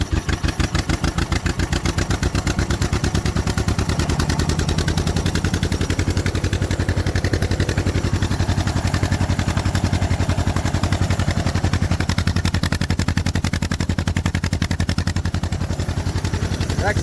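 Vintage John Deere MV tractor engine, long idle after sitting and with an out-of-tune carburetor, runs steadily and loud with an even, rapid firing rhythm throughout, close by and alone.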